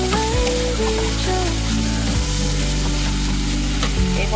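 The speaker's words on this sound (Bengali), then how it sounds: "সমস্ত সবজিগুলো কিন্তু কুক হয়ে গেছে" Cooked vegetables frying in a pan and stirred, a constant close sizzle with scraping stirs, played under background music with no speech.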